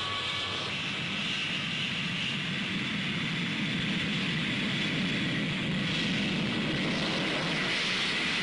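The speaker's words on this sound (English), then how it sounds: "the first flight of Concorde" The Concorde supersonic airliner on its 1969 first flight at Toulouse, France gives off a loud, continuous roar of jet engines, broad and unbroken throughout with no voices.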